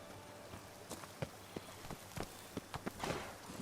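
Hoofbeats of a horse in The Witcher 3: Wild Hunt video game, a quiet series of soft thuds at an uneven trotting pace, faint and alone.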